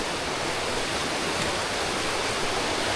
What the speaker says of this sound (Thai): ระหว่างทางของเราก็จะเห็นน้ำตกตลอดเลย